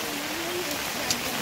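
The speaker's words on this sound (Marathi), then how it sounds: "ते पूर्ण पाऊस, पूर्ण पाणी झालं इथे" Heavy rain near a school, falling as a steady, dense hiss that fills the short stretch evenly and close around, with no voices.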